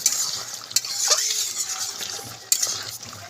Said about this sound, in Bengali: একটু খুন্তি দিয়ে একটু ঠিক করে দিতে হবে, চারিপাশ থেকে না বেরিয়ে যায়।